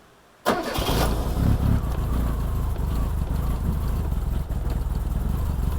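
A Reliant Rialto, choke pulled out, cranks and fires abruptly to life after silence, its small engine running with a loud, steady chugging idle close by.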